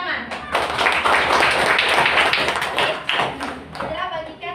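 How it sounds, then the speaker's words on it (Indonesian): Primary school pupils clapping their hands together in a classroom, a loud burst of many hands lasting a few seconds before fading. "Tepuk tangan"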